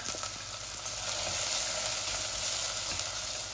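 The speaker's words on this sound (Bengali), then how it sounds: "পেঁয়াজ দিয়ে দিচ্ছি" Onions dropped into hot oil sizzle steadily for a few seconds, a dense bright hiss that stays fairly even throughout, close and fairly loud with faint clinks underneath and no talk.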